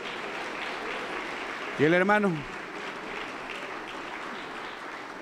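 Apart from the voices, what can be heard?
applause in church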